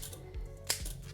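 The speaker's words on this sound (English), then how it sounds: "I use scissors when I cut broccoli up." Kitchen shears snip through broccoli during vegetable meal prep, giving a couple of short, crisp cutting clicks, one sharper than the rest, over quiet room tone with no talking.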